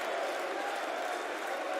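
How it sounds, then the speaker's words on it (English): Crowd cheering at a European Tour darts event, a continuous, loud wash of voices and roar from a large arena audience, sustained without a break. "Listen to the crowd."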